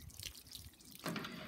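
Tap water runs and splashes over freshly cut red oak and post oak wood slices, rinsing sawdust away; a soft trickle and drip grows into a fuller, steadier splashing stream partway through, close by with no voices.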